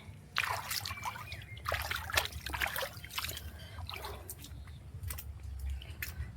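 Water trickles and splashes while a stone grinding slab is washed, with uneven pouring and dribbling sounds coming in irregular bursts close by.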